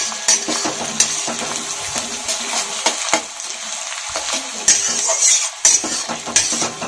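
Garlic and crushed green chilies fry in a pan as a spoon scrapes and stirs, continuous sizzle broken by sharp metallic clacks and knocks against the pan, no talking.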